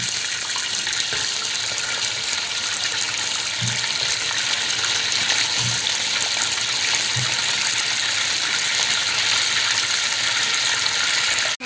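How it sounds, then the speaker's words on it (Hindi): Mutton pieces hit a pot of browned onions and sizzle loudly in hot oil, a continuous dense frying hiss that holds steady throughout with a few soft thuds beneath. "प्याज हो गई मेरी ब्राउन, अब मैं ये गोश्त डाल दूँगी इसके अंदर।"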